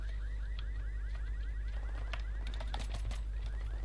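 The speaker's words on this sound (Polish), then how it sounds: "Ale alarm zrobili samochodem." A car alarm in Battlefield 3 wails in a steady, repeating rising whoop, with clicks and other game sounds scattered over a constant low hum.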